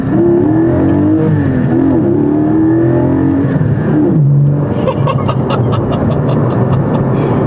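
A Porsche Cayman GT4 engine revs hard while driving, pitch climbing through the gears with a brief dip at a shift before rising again, loud and close from inside the car.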